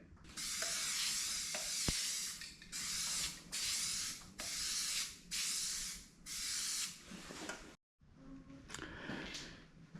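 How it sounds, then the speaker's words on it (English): Repeated bursts of aerosol spray paint hissing over a stencil on a 1960s John Deere plow, about six short blasts in a row, close and loud, followed by some rustling handling noise. "So I've resorted to stencils and spray paint."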